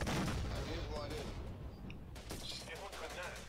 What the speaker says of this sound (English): there's a vehicle over there that's shooting in the middle of the street